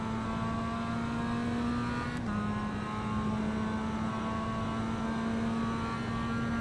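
A Mazda Miata engine in the iRacing sim holds a steady, droning hum for the whole stretch, dipping briefly in pitch as if shifting, then settling back to a constant tone.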